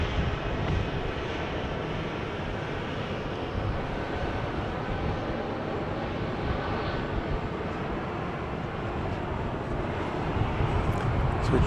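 Airplane landing on runway 31 left at Dallas Love Field, a steady broad engine roar heard from a distance throughout, swelling slightly near the end.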